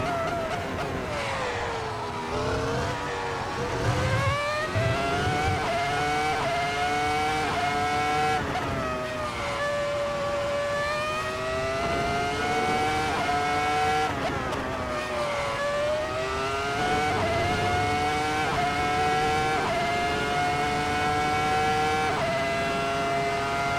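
Ferrari F2004 Formula One car at Monza in a racing game, its screaming V10 rising and falling through gear changes and lap corners, loud and continuous with occasional tire squeal, no voices.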